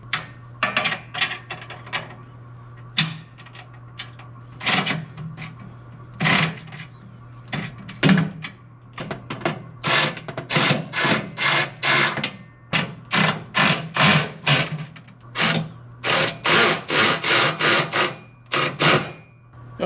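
Wrenches tighten bolts on a Harbor Freight US General 4 drawer tool cart fitted with an extra drawer, giving sharp, irregular metallic clicks and ratcheting bursts that grow denser over time, close and fairly loud.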